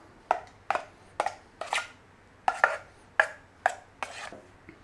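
A tub of chicken liver pâté being tapped on a hard surface, about nine sharp knocks arriving in an uneven, unhurried rhythm, close and clear with no talking over them.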